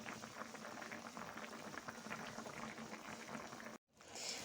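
Fish and okra simmer in a pot, giving a steady bubbling, sizzling boil close by that runs unbroken for several seconds, then cuts out briefly and resumes.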